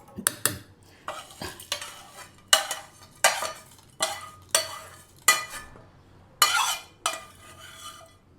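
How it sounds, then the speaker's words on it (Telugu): A spoon stirs spice tempering into vada chutney in a metal pot, about a dozen rhythmic scraping strokes that rasp against the sides, close and fairly loud, with a faint low hum underneath and no talk. "ఇప్పుడు ఇందాక మనం వేసుకున్న పోపు అంతా కూడా ఇందులో మిక్స్ చేసుకుందాం"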